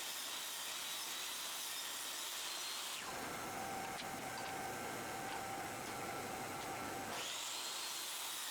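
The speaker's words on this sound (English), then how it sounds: "so I rip them on the table saw." A table saw rips wooden planks lengthwise, its steady whirring drone dropping in pitch and thickening for about four seconds as the blade cuts, then rising back to a free-running hum; no talking.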